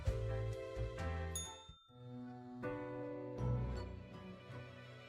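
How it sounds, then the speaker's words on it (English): Bells toll in the video game Death and Taxes, a ringing tone with a long decay, then a brief silence before more ringing, quiet overall. "I can literally hear the bells tolling."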